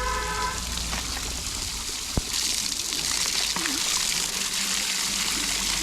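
Water from a mountain stream pours into a bottle, a steady close rushing trickle that holds throughout with one brief knock midway.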